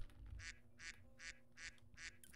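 A person imitates a duck, giving a regular series of about six nasal quacks evenly spaced at roughly half-second intervals. They are fairly faint against a quiet room.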